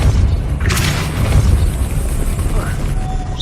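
A Depulso spell blast in Hogwarts Legacy sounds as a loud, dense, rumbling boom with a sharp crack near the start, followed by a sustained, heavy roar that fills the whole moment without fading.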